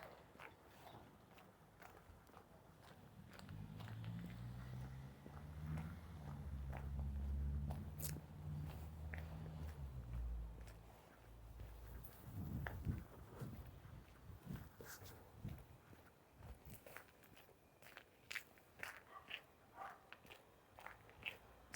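Footsteps crunching on road salt along a street in Toronto's Old Mill and Kingsway area in winter, a quiet irregular series of gritty steps with faint low rumbling background.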